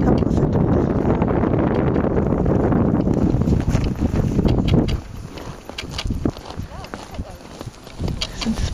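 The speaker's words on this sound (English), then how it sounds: "So yeah, it was windy." Strong wind buffets the microphone outdoors at the Golden Circle in Iceland near a rift between continental plates, loud rumbling gusts that ease partway through, with a person talking underneath.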